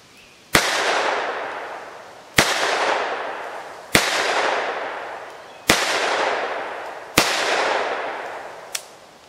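A Taurus Judge revolver fires .380 ACP rounds through rifled chamber adapters in double action, giving five loud, sharp shots spaced about every two seconds, each with a long ringing decay outdoors, followed by a faint click.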